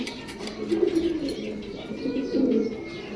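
Pigeons cooing in a loft among birds offered for sale, with several soft, low throaty coos rising and falling over a faint background murmur of other birds.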